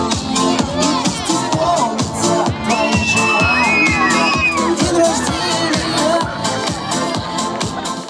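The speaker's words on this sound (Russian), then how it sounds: "а молодежь дарила Павлу Деревянко свои овации." A young crowd at a rugby festival cheers and shouts continuously, with whoops and children's voices forming a loud, dense wall of sound and a voice talking over it.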